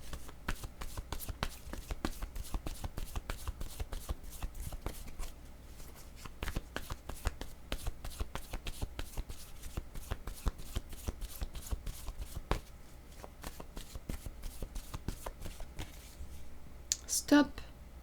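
A deck of oracle cards is shuffled by hand without pause, a dense, fast run of crisp riffling flicks close by, continuing evenly for a long stretch.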